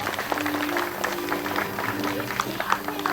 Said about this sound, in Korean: 예, 모두 박수 쳐주시기 바랍니다.